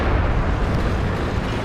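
A shell strikes the main gun of a tank in World of Tanks, a loud, dense rumbling impact that fills the short moment with roaring noise and no speech.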